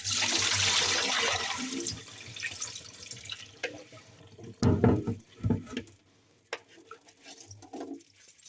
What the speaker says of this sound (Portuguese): O passo a seguir é simplesmente escorrer o mais possível a água onde o arroz esteve a demolhar.